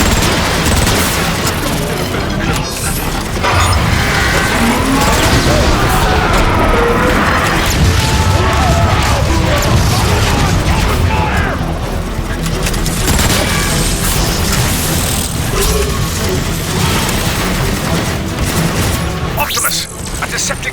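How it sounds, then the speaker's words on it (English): Artillery strike explosions in the video game Transformers: Fall of Cybertron, a loud, dense barrage of booms, crashes and rapid gunfire that rolls on without pause, with voices buried in the din. "Call in an artillery strike!"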